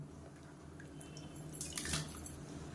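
Chopped vegetables go into a pot of boiling water for a Tamil seven-vegetable kootu, making a few soft splashes and clinks over low bubbling.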